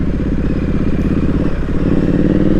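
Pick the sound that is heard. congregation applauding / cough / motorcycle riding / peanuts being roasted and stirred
motorcycle riding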